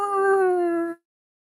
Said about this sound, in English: Hound howls.